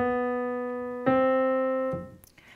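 Three sustained piano notes from the riff in a well-known song, each stepping down by a half step and ringing before the next, ending with a soft shuffle.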